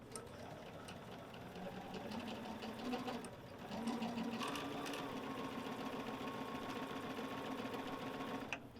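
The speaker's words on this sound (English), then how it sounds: "then we're going to stitch" A sewing machine stitching a pillow, running in a steady continuous whir that rises slightly in pace partway through and carries on nearly to the end, close and fairly quiet.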